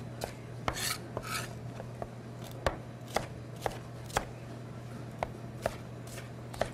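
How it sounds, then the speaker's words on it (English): Knife chopping green peppers coarsely on a cutting board, a dozen or so crisp, evenly spaced thuds close up over a low steady hum, no talk. "So this recipe calls for a 1/2 cup of chopped green peppers."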